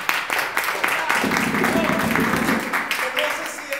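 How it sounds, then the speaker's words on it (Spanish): Applause for a performer during a rehearsal of Terranova at ZAWP Zorrozaurre: dense, steady clapping from a group fills the whole stretch at an even, moderately loud level. "Un aplauso para ti."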